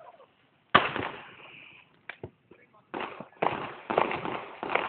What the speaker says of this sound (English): Fireworks. Come on, that's awesome.